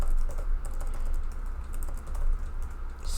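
Computer keyboard clatter while Python code is being written, a steady stream of close, light key taps with irregular rhythm and occasional heavier strokes.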